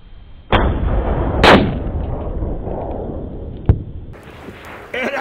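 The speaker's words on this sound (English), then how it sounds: "Now, it's the hot round, last round, 178." A Mauser 30-06 sporter rifle fires a 178-grain round at a distant plate: one loud, sharp report rolls into a long fading echo, followed by a brief faint crack a couple of seconds later.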